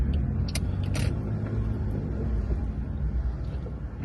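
A car rolls into a car park to stop, its low engine rumble and tyre noise close and continuous, with a couple of brief sharp clicks or knocks early on.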